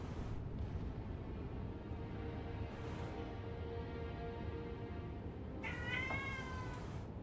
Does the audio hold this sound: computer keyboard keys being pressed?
no